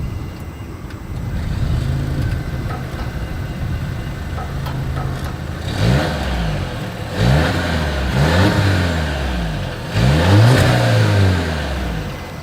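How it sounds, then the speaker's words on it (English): A 2023 Volvo XC60 SUV's exhaust revs up in several loud bursts, rising and falling over a steady idle rumble, with no talking. "As always, here is that exhaust clip."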